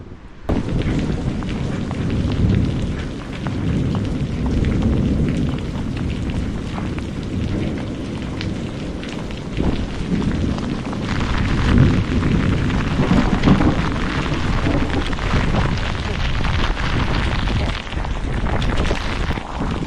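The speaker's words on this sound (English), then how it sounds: "big thunderstorm is hitting me" In a mountain thunderstorm, thunder rolls and rumbles heavily and continuously, mixed with driving rain and wind noise, loud and close for the whole stretch.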